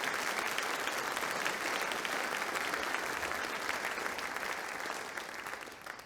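An audience applauds attorneys at a community court event held at a college, a steady wash of clapping hands at moderate distance that holds evenly, then gradually thins and fades toward the end.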